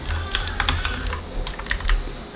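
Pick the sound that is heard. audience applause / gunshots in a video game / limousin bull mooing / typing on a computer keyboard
typing on a computer keyboard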